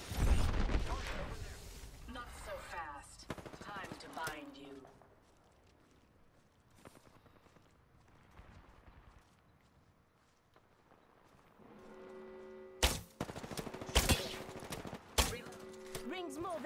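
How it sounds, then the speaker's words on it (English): Gunfire in the shooter game Apex Legends, loud rapid volleys of shots up close at the start, then quieter scattered shots and footsteps, and heavy sharp bursts returning near the end. "Shooting."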